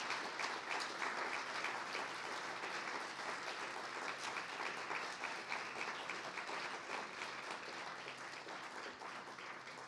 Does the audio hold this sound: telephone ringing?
no